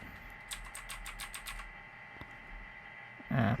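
Computer keyboard typing heard through a FIFINE A8 microphone during a test, a quick run of about seven crisp key clicks followed by quieter gaps and a louder thump near the end, over steady background hum.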